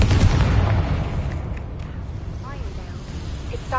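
The Confringo explosive spell goes off in the video game Hogwarts Legacy, a loud, close, booming blast that fades into a rumbling tail, followed by faint magical chimes.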